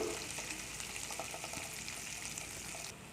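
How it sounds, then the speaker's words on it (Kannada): Onion with spices frying in a pan for Karnataka-style mango rice (chitranna), giving a steady, moderate sizzle with faint hissing and a few soft stirring clicks, no voices. "ಇವಾಗ ಇದು ಮೂರನ್ನು ಒಂದು ಸ್ವಲ್ಪ ಫ್ರೈ ಮಾಡ್ಕೊಬೇಕು"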